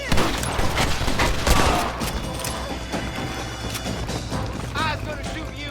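Gunfire in Red Dead Redemption comes as a burst of sharp, loud shots and crashes in the first two seconds, easing into scattered impacts while in-game voices shout over the action.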